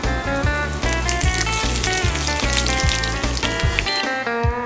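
Chili peppers frying in hot salad oil with star anise and Sichuan pepper for Henan green bean braised noodles, a steady, close, loud sizzle and crackle running the whole time, with a tonal backing underneath.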